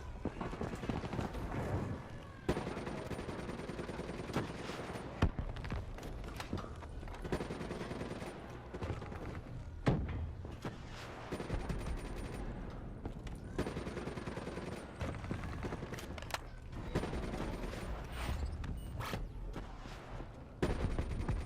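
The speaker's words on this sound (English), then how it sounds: "Shoot down those bats." Gunfire in the Black Ops III video game, with bursts of rapid shooting aimed at flying bats, repeated clusters of shots over a dense game soundscape, moderately loud throughout.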